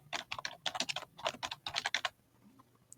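Quick typing on a computer keyboard, a run of close, crisp key clicks in uneven bursts for about two seconds before stopping into quiet.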